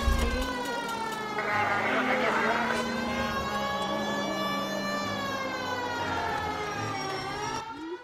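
Wailing police car siren from the video game L.A. Noire, rising and falling in long sweeps over a running car engine, loud and close, with someone talking over it.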